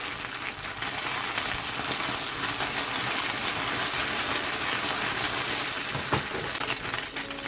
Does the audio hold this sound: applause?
no